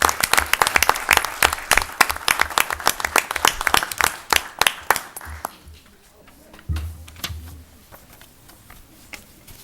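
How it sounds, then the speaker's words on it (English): An audience at a village board of trustees meeting applauds with brisk, dense clapping for about five seconds, then scattered claps fade and a voice speaks. "Let's give Jack another round of applause"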